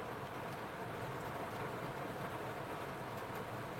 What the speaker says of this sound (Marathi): आणि बघा पाऊस बघा किती आलाय.